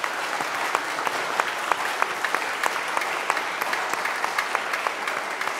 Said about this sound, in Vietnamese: Chúng ta làm tràng pháo tay cảm ơn sơ và tất cả.